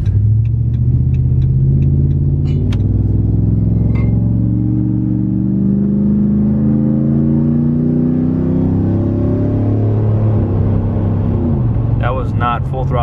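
A catless truck engine revs up loudly, short of full throttle, and holds a deep, rising rumble before settling, with a brief voice near the end.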